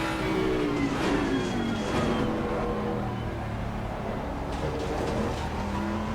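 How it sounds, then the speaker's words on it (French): A race car in the Assetto Corsa Competizione racing game accelerates out of a corner, its engine note climbing steadily and holding loud and continuous throughout, with no talk. "J'ai pas trop mal pris le virage, là, j'ai bien accéléré."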